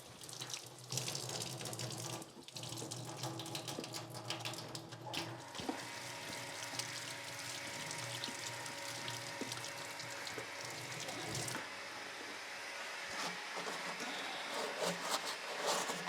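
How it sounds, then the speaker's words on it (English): Tap water running steadily into a sink while hands are washed at a beekeeping apiary, a constant close splashing hiss lasting throughout with small shifts as hands move through the stream. "Give your hands a wash."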